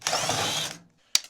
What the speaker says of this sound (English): At least my DeWalt drill bits works good